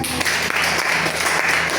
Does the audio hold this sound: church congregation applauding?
yes